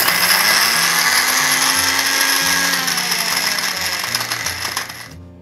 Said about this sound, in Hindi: बस अब मैं इसे एक बारी पहले पीस लूँगी।